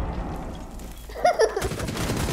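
Gunfire in Rainbow Six Siege, a short burst of several close shots in the middle of the moment, set against steady game ambience.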